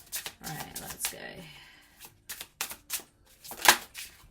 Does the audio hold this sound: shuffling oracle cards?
yes